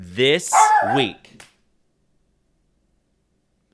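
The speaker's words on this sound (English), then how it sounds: "excuse my dog." A pet dog barks loudly a few times at close range during an astrology podcast, overlapping a person speaking, then cuts off into silence.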